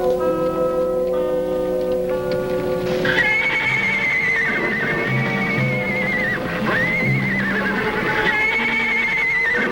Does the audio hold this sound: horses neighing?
yes